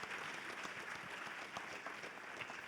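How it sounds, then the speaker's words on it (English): An audience applauds Owen Collum and the Neuroconcise team at the CYBATHLON BCI Series event in Graz, Austria, with steady, fairly faint clapping throughout and no talk. "A huge applause for Owen Collum and the whole team of Neuroconcise."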